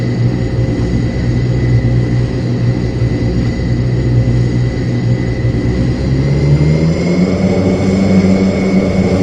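Airbus airliner engines in a turboprop simulator video game drone as a loud, steady roar, with a low hum that climbs in pitch near the end as the throttle rises.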